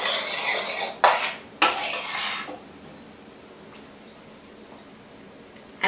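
A measuring spoon clinks and scrapes through thick homemade barbecue sauce in a pot for about two seconds, with two sharp knocks, then near quiet follows.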